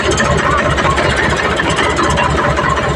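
Loud, close tractor engine running steadily with a dense, continuous throb and no pauses, heard alone without voices.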